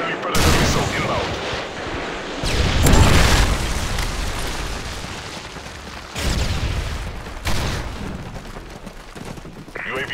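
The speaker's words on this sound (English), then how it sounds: "Friendly predator missile inbound." Several heavy booms and blasts roll out in the Modern Warfare 3 video game as a predator missile strikes during a village match, with loud explosive bursts spread across the span amid ongoing battle noise.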